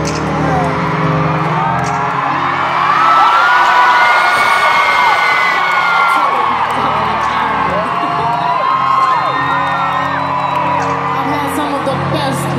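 A large concert crowd at a show in Dublin cheers and whoops continuously, a loud sustained roar of voices with shouts rising above it throughout.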